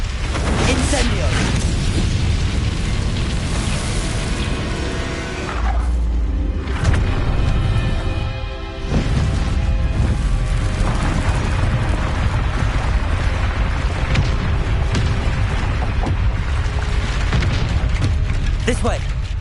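A string of Incendio fire spells explodes in a video game, making loud, dense bursts and whooshing blasts. They pile up with mechanical clatter and game noise over a long stretch, and a voice talks over parts of it.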